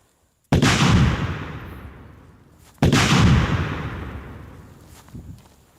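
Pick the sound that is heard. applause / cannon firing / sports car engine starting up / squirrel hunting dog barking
cannon firing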